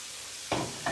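A pot of water boils on a kitchen stove's back burner while low-carb pasta Alfredo is being made, a faint, steady bubbling hiss with two short louder bursts of agitation.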